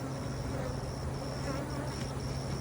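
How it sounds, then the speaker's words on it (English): A dense, steady drone of honey bees swarming around their hive, a continuous close buzzing with no talk over it. "So yeah, lots of bees"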